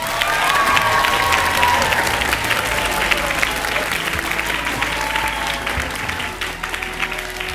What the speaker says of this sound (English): A big round of applause for Team Sawatdee Siam.